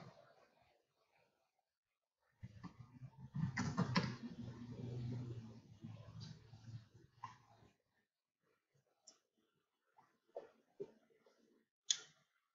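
Someone types on a computer keyboard while working in Microsoft Excel. The keys give faint, close clicking bursts, with a busier run of keystrokes followed by sparse, isolated taps.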